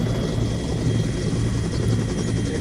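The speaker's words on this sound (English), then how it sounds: "We do have some choppers coming overhead." Helicopters pass overhead in the Onward VR shooter, a steady loud rotor drone with low thudding pulses that holds without a break.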